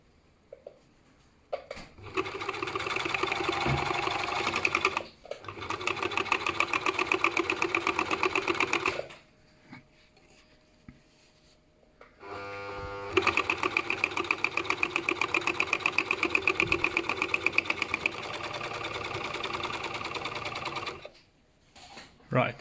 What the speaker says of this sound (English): So what you do is you can overlock them together